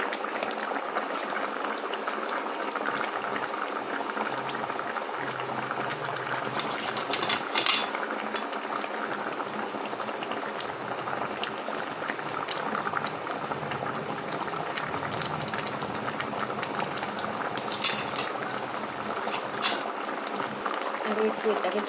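A curry with fried eggs added boils in a pot, making a continuous bubbling and simmering hiss throughout, while a person talks over it.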